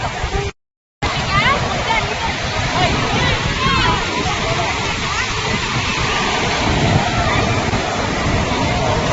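Sea waves splash and wash continuously near the shore as visually impaired government school students play in the water, with voices talking over the surf.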